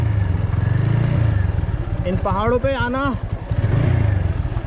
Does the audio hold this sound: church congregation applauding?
no